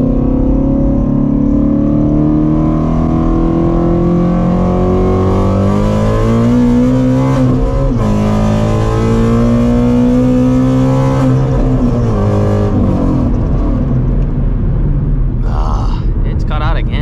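A 520 hp Shelby GT350 Mustang accelerates hard, its engine note climbing through loud sustained pulls with a shift dip midway before rising again, close and dominant throughout.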